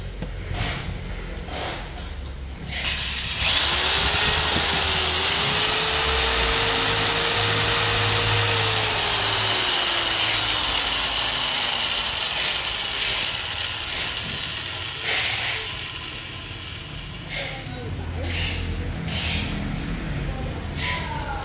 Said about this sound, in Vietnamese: một con máy khoan dây điện dài như thế này